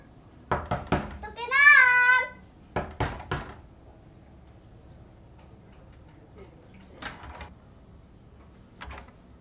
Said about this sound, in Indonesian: kemana tadi anu ngetok-ketok?